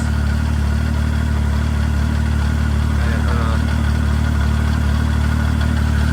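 Machine engine idling steadily after a cold start, a loud continuous low rumble with an even, unchanging tone.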